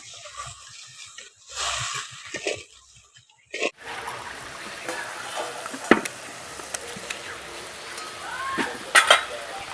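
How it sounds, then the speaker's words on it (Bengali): Water poured into spiced masala fried in a pan for a taro kofta curry sets off a steady, close sizzling hiss with scattered pops and crackles, after a few seconds of softer pan clatter. "এটার পরিমাণ মতো জলটা দিয়ে দিচ্ছি"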